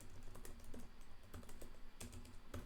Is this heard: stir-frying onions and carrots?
no